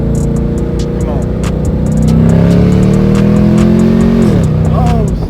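A straight-piped Chevrolet Camaro ZL1 revs hard while driving, its loud, raw engine note climbing steadily then dropping, with sharp exhaust pops crackling throughout, recorded close from inside the car.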